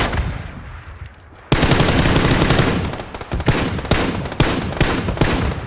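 Loud, close bursts of automatic gunfire in the video game PUBG, sustained rapid volleys followed by several sharp single shots.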